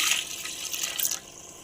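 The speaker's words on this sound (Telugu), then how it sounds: "మనకు కూరకు సరిపోయేట్టుగా వాటర్ అయితే వేసుకోవాలి" Water pours into a pot of curry made with tender tamarind leaves and brinjal, a brief close gushing splash that stops abruptly, no talk.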